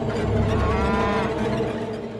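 A cow moos loudly and close by in a rural Tamil village setting, one long drawn-out call filling the clip over steady low background noise.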